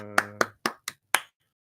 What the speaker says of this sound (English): Golf claps. Golf claps.